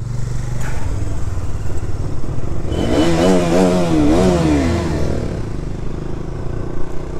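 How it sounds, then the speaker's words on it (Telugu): A Kawasaki Z900 motorcycle engine starts and runs close by, a steady rumble rising into a few wavering revs in the middle before settling back to idle. "మన బండి అయితే స్టార్ట్ అయిపోయింది"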